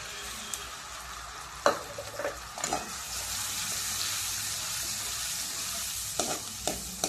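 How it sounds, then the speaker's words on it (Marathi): Tomato and onion puree hits a hot pan of spiced dal makhani and sizzles steadily, with scattered scraping stirs of a spoon against the pan, fairly close and moderately quiet. "याच्यावरनं टाकायचं आपण टमाटा आणि कांद्याची प्युरी।"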